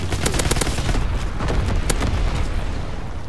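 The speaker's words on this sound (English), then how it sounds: "Dropping incendiary." Incendiary bombs from a video game bombing run burst in a dense, loud barrage of booms and crackling blasts, overlapping with rapid gunfire-like pops throughout.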